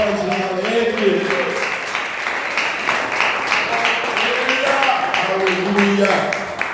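A church congregation claps in praise, a steady rhythmic patter of many hands that runs throughout, mixed with voices singing or calling out over it.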